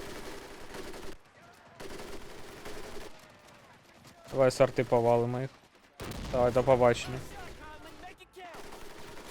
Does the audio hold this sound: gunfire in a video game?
yes